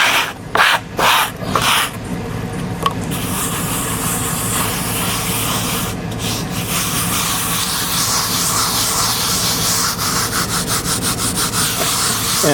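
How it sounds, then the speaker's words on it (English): Steady abrasive rubbing and scraping of cement slurry across a concrete countertop surface, continuous and close for the whole stretch, with a few sharper strokes near the start and no talking. "You scrape it up there a little bit."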